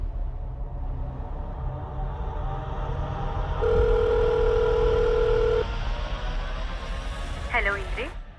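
A telephone being dialed with a call that fails to connect: a low hum, then a steady tone held for about two seconds, followed by a quick rising chirp of tones near the end, fairly close and with no speech.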